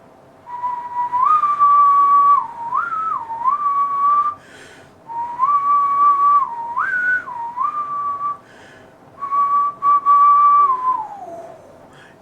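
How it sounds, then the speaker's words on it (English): A person whistles a slow melody in several sustained phrases separated by short pauses, clear and close, with no talking. "First of all is whistling."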